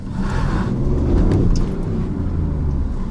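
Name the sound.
BMW i8 wheel spin in electric-only mode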